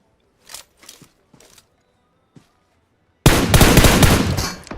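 PUBG Mobile gunfire starts with a few sparse distant shots and then turns into a sudden loud burst of close, sustained automatic fire that lasts to the end.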